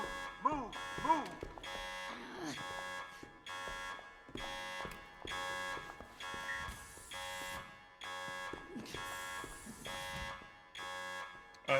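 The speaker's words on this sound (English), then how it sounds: "that alarm is annoying in my ears now" A security-breach lockdown alarm from The Expanse: A Telltale Series video game sounds as a steady, repeating electronic buzzer pulse, loud and insistent for the whole stretch, with voices speaking over it.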